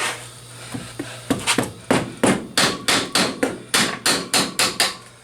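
A hand tool taps a tire valve stem back into place, first a few light knocks and then a steady run of about a dozen sharp, evenly spaced metallic taps close by.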